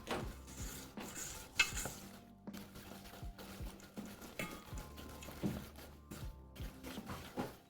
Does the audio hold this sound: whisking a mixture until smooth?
yes